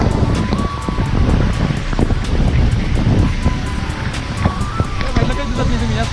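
A waterfall at Amboli Ghat in misty monsoon hills, a continuous loud rushing roar of falling water with wind buffeting, while someone talks over it.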